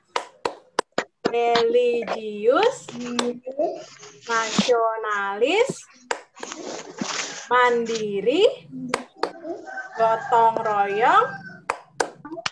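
A class of Indonesian schoolchildren, led by their teacher, performs the rhythmic PPK clap routine: sharp group hand claps land in quick bursts between loud chanted words.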